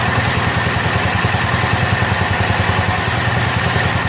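A rebuilt Kohler K241 single-cylinder engine on a John Deere 210 lawn tractor runs steadily at idle through its muffler, giving a loud, even, low chugging throb with a mechanical hum and no voices.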